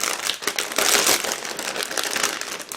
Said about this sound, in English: Now just give me a second to open the plastic bag with parts.